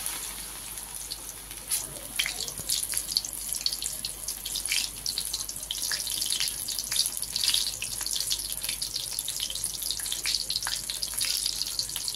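Jute leaf fritters (pat pata bora) fry in a pan of oil with a continuous crackling, bubbling sizzle throughout, close and fairly loud, with occasional louder pops.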